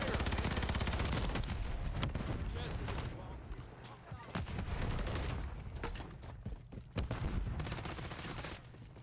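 Heavy gunfire in the multiplayer video game Call of Duty Modern Warfare III, with loud sustained automatic bursts and sharp individual shots. The firing eases midway, then picks up again with scattered cracks.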